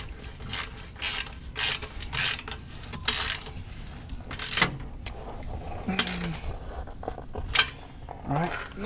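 Ratchet clicking in short bursts as a bolt is tightened on the valvetronic muffler of a Stage 2+ Audi A7 3.0 TFSI V6, the close, fairly quiet ratcheting separated by brief pauses, with faint clinks of tools.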